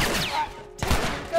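Gunfire in The Last of Us, a short burst of game gunshots with a quick rattle, moderately loud and close, with some game ambience around it.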